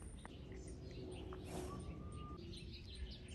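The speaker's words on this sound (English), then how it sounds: "I've got a number of birds nesting in my garden" Towhees call from a backyard garden, with faint chirps and a thin whistled note over a steady low background hum, distant and sparse.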